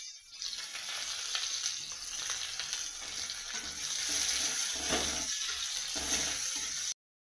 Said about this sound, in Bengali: এবারে পেঁয়াজ কুচিটা দিলাম